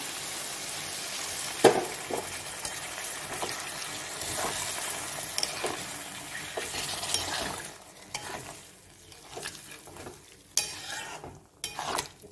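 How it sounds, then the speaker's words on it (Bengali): Hot water poured into a simmering raw jackfruit curry in a cooking pot: a steady, close rushing hiss for several seconds, then quieter bubbling and a few light clinks of utensils, with no talking. "ওই জন্য আমি জলটা দিচ্ছি। গরম জল দিলাম।"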